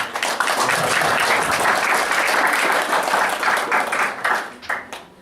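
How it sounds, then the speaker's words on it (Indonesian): A crowd applauds at an Indonesian NU anniversary and Gus Dur commemoration gathering, dense and loud, holding steady before thinning into scattered final claps near the end. "tepuk tangan buat"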